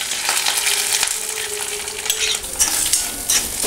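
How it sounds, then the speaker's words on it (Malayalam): Grated coconut being stirred and roasted on low heat in coconut oil with mustard seeds and curry leaves for a Kerala-style kootu curry: a steady close sizzle with a spatula scraping and stirring throughout. "തേങ്ങ നല്ല ബ്രൗൺ നിറമാവുന്നത് വരെ സിമ്മിലിട്ട് വറുത്തെടുക്കാം"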